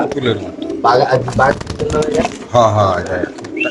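Racer pigeons coo at a pigeon farm, soft repeated throaty calls close by, mixed in with people talking over them.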